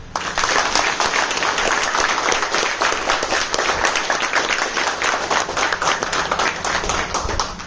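An audience at a live achievement program in Thailand breaks into loud, steady applause, dense clapping that stays at full strength for the whole stretch and rises from the start with no voices over it.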